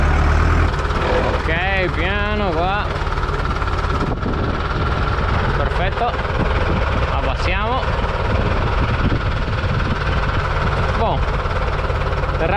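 Tractor driving slowly along a road, a loud, steady engine drone with rumbling vibration throughout, plus short pitch-sweeping whines from passing vehicles or the engine.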